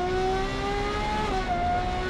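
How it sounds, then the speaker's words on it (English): A Perodua Kelisa's three-cylinder engine hums in a steady, close drone from inside the car, its pitch holding level with a slight step partway through, and no one talks. "what you're left is just the sound of the 3-cylinder engine"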